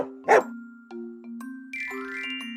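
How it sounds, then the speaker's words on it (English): A dog gives a single short, sharp bark up close, followed by a sustained tonal ringing with no voices present. "what sound does a dog make?"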